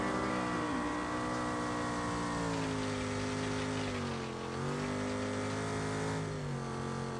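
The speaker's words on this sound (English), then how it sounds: "they're doing some donuts and burnouts, or at least trying to" A truck does donuts and burnouts in BeamNG.drive, its engine droning steadily with rising and falling revs and tire noise, loud and continuous with no voices.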